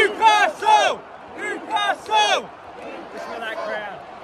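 A rugby league crowd at a Newcastle Knights finals match against Canberra Raiders, chanting in loud, rhythmic shouted bursts that taper into a looser, quieter roar.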